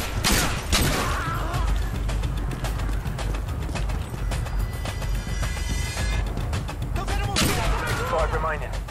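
Rapid bursts of gunfire from Call of Duty Modern Warfare Spec Ops crackle almost continuously at close range, with a few heavier blasts and brief bird-like chirps mixed into the dense, loud game action.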